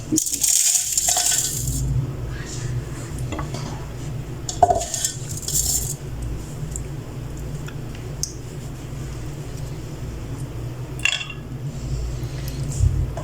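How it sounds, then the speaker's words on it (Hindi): Whole spices tipped into a metal grinder jar for homemade nihari masala, scattered clinks and rattles at the start and again midway, nearby and fairly light over a low kitchen hum. "यहाँ मैं सब मसालों को जार में डाल दूँगी।"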